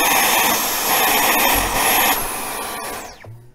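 A Dyson cordless stick vacuum, V10 or V11, running with its airflow blocked, a loud steady high-pitched whine and rush that strains, then spins down with a falling tone near the end.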